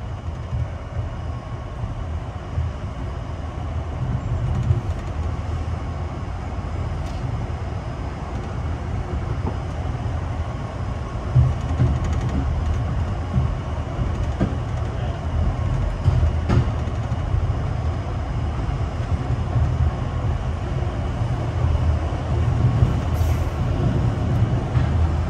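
An Amtrak Capitol Limited passenger train runs eastbound on the CSX line, formerly the Baltimore and Ohio, toward Washington Union Station. It gives a steady low rumble with rhythmic rail clatter, heard from inside the train and continuous throughout.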